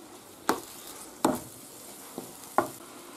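Monkfish pieces frying in a paella pan with a seafood paella, giving four short sizzling bursts as the fish is added and stirred, fairly faint with quiet gaps between them.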